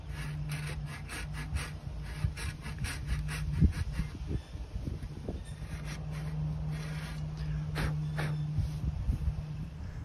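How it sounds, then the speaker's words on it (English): A hand saw cuts a shallow kerf around the shaft of a wooden oar, giving steady repeated rasping strokes up close, with a low hum running underneath. "I'm going to go around and saw this down to that mark all the way around"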